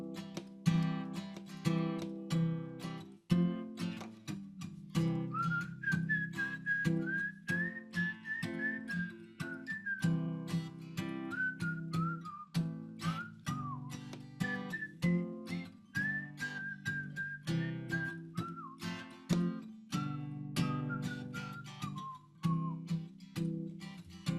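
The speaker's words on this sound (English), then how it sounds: "Anybody know how to whistle? We'll see if I can." A person whistles a slow, steady melodic tune alone for more than twenty seconds at a celebration gathering, close and clear with short pauses between phrases.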